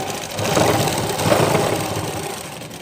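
A sewing machine runs steadily, stitching a blouse waistband and joining it with a topstitch. The motor hum is close and fairly loud, with a slight rise and fall in its whir and no talk.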